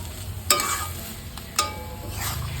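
Bottle gourd leaf paste cooks in a pan over very low heat, giving a soft, continuous sizzle broken by a few sharp scraping stirs.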